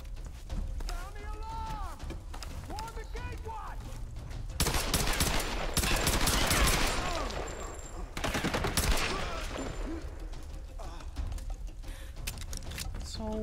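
Bursts of gunshots in Tomb Raider 2013 while escaping the burning palace, heavy volleys of fire loud at the middle of the stretch and lighter shots around it, with someone commentating over the top.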